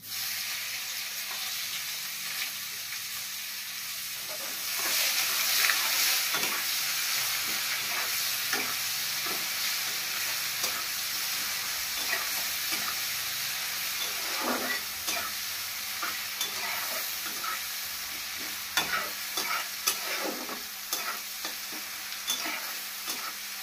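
Chopped onion sizzles steadily in a hot pan in a home kitchen, a continuous close hiss with repeated scraping taps of a spatula stirring it, growing busier midway.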